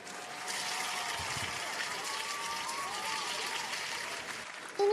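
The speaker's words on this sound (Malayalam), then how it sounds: "എല്ലാരും അബുവിന് ഒരു ക്ലാപ്പ് കൊടുത്തേ." Cartoon classroom of young kindergarten children clapping for a classmate, a steady wash of light applause lasting several seconds with no talk over it.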